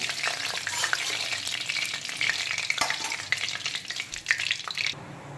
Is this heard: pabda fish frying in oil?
yes